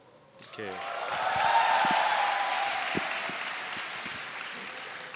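A roomful of people at a church summer retreat's morning service break into applause that swells quickly, holds as a dense steady clatter, then slowly eases off, with a few louder claps nearby.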